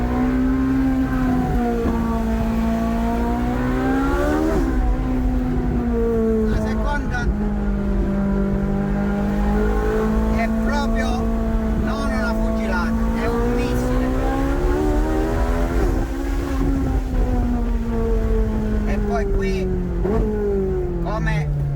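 A Ferrari 458 Italia sports car driven hard through a series of curves, its engine revving loudly and continuously, rising and falling with gear changes and brief tire squeals, with someone talking over it.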